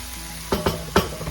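Garlic and vegetables sauté in a pan over medium-high heat for squid adobo, giving a steady close sizzle broken by three quick utensil stirs.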